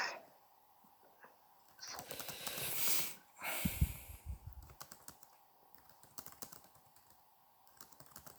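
Rapid keyboard clatter with bursts of breathy noise and a loud rustle midway, keys tapping on steadily afterward.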